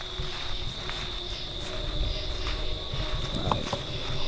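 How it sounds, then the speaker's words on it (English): Insects chirp steadily in the woods at night, a continuous high trilling chorus that fills the background, with faint rustling footsteps and small movements nearby. "That's just some bugs."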